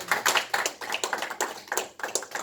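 A small group at an association meeting claps together, a brisk scattered burst of hand claps with slightly uneven rhythm, moderately close.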